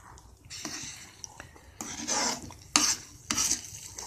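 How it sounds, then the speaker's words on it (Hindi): Spoon stirring and scraping semolina halwa with roasted cashews and almonds in a pan, in bursts of close, scratchy strokes with short pauses between them. "इसको लगातार चलाते रहना जरूरी है ताकि हर तरफ काजू और बादाम बराबर मात्रा में पहुंच जाएं"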